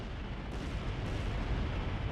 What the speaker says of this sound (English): the sound of multiple explosions can be heard from the city below